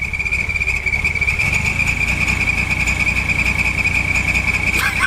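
A steady engine drone runs throughout, topped by a constant high-pitched whistle from the exhaust; a brief louder rev near the end.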